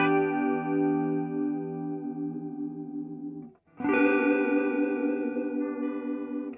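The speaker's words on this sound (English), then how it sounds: "Chorus sounds pretty cool as it is, but let me see what it sounds like with a faster rate." A guitar chord sustains through a chorus pedal, then after a short gap a new chord rings out with a faster, more pronounced wobble in its shimmering modulation, loud and alone.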